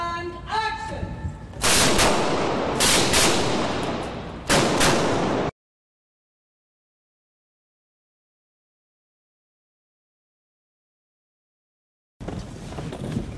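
Several loud, sharp bursts of gunfire on a film set in quick clusters, followed by abrupt total silence and then faint background noise returning.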